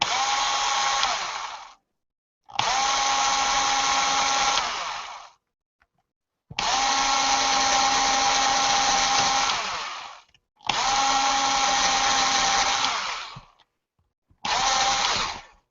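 A power drill whirs in five separate bursts, each running a couple of seconds with short silent pauses between, close and fairly loud.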